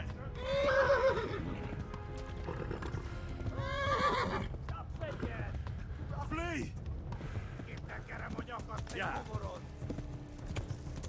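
Repeated shrill whinnies from a horse in the medieval game Kingdom Come: Deliverance ring out over steady galloping hoofbeats, with several neighs spread across the stretch and people talking at times.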